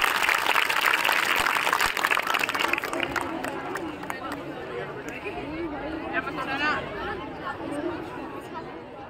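Applause breaks out at a school prize event: a burst of crowd clapping that fades into chatter and voices in a large gathering.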